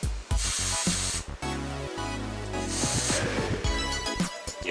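Spray paint can spattering onto a canvas, bursts of loud hissing spray repeated several times with short gaps between them, close up and without talk.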